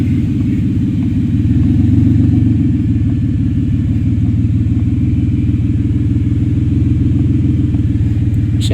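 A Mitsubishi Montero engine idles loudly and steadily up close with a deep, throbbing low rumble, rising slightly as it is put into drive, with no talk over it.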